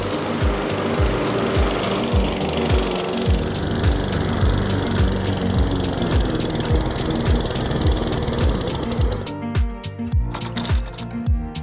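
A Toro 21-inch Recycler self-propelled lawn mower cuts grass with a loud, rough engine drone and rapid rhythmic chopping clatter, running steadily for most of the clip before the sound thins out and sputters near the end.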